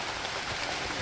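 Steady rain falls in a Hawaiian rainforest, a dense, even hiss of drops on leaves and surfaces, close and continuous, with no voices.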